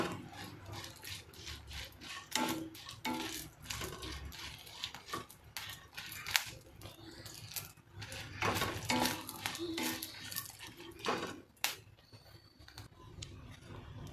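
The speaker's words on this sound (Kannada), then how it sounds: "ಸ್ವಲ್ಪ ಸಣ್ಣ ಉರಿಯಲ್ಲಿ ಇಟ್ಕೊಂಡು ಚೆನ್ನಾಗಿ ಹುರ್ಕೋಬೇಕು ಹಂಗೆ ಕೈ ಆಡಿಸ್ತಾ" Red chutney ingredients roast and are stirred in a pan over a low flame, giving a steady, irregular scraping and rustling of the spoon against the pan at moderate volume.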